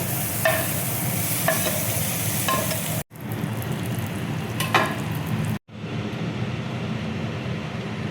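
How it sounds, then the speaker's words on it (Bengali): A hot tempering is poured over coconut chutney, giving a loud, steady frying sizzle that is close and continuous, broken by a few small clinks, with two brief abrupt cuts in the sound. "চাটনির উপরে দেখো আমি তরকাটা দেখো দিয়ে দিচ্ছি।"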